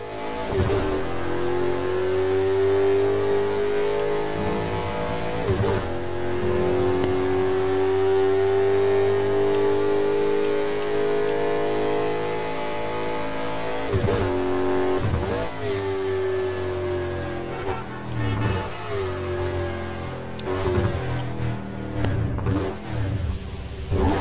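Car engines rev in the Burnout racing game, a loud sustained drone with one engine note climbing and holding, a few sharp shifts and impacts breaking through near the middle and end, no voices over it.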